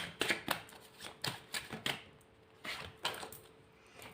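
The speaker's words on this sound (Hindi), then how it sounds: "मैं 3 कार्ड्स और निकालूंगी।" Tarot cards drawn from a deck, several quiet crisp flicks and slaps of cardstock in an irregular cluster, close and soft with no talking.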